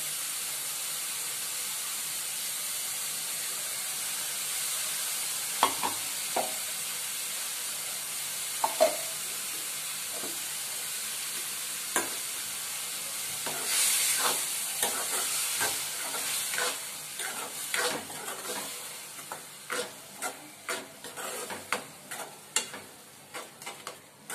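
Ground green masala paste fries in oil for an egg curry, starting as a soft steady hiss with occasional clicks, then bursting into loud, close, rapid crackling and spattering with repeated stirring scrapes.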